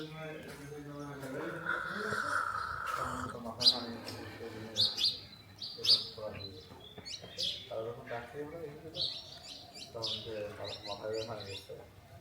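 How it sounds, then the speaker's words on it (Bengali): Village birds chirp and tweet on a cold, foggy morning at sunrise, with short bright calls scattered throughout and a voice-like tonal sound running underneath. "আর পাখির ডাক"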